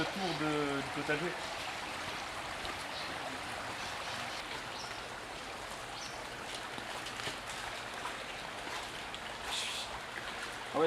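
River water flows in a steady close babble and trickle beside a vegetable garden where stones are being gathered, continuous throughout, with a brief voice at the start.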